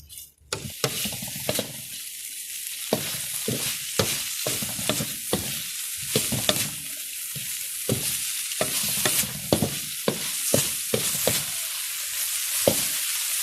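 Malabar spinach shoots and flowers with shrimp stir-fried in a hot pan: constant loud sizzling broken by repeated sharp scrapes and clanks of the spatula at an irregular rhythm, close up and without speech.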